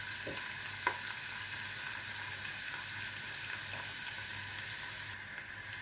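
Chopped onions fry in oil in a pan as tomato paste goes in, a steady close sizzle with a couple of faint clinks, and no talking.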